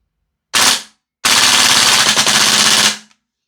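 A Maruyama ISO556 gas blowback airsoft rifle fires a short full-auto burst, pauses briefly, then rips a longer rapid burst, loud and close with sharp mechanical clatter and no talking.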